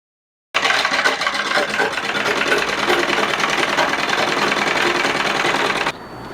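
A sewing machine stitches a seam on cloth for a kerchief, a loud, fast, steady mechanical whirr that starts abruptly and runs continuously before stopping near the end, close up and with no talking.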